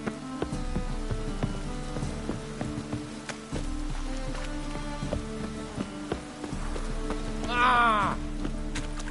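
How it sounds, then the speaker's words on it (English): Rain falls steadily in The Witcher III, a continuous patter of drops on surfaces under ambient game sounds, with a brief rising tonal effect near the end. "Rain again."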